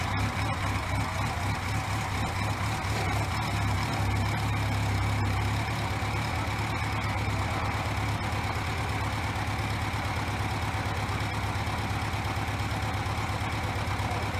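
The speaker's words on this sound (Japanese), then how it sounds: "あとはエンジンをかけます。" Suzuki Impulse motorcycle engine, freshly refilled with coolant, running at a steady idle up close, an even low throb with mechanical chatter continuing unchanged throughout.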